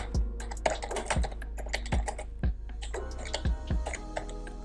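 Keys on a computer keyboard clack in quick, uneven bursts of typing close to the microphone, with short pauses between strokes.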